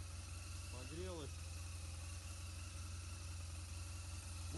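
A 2007 BMW R1200GS motorcycle engine idles with a steady low hum while the clutch is pulled. A brief voice is heard over it near the start.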